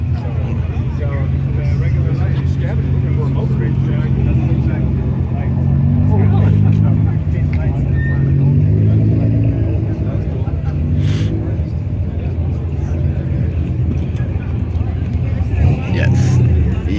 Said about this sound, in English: Ferrari. Ferrari.